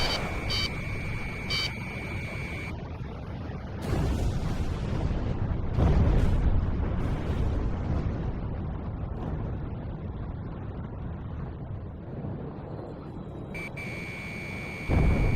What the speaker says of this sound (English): That damn alert won't shut up!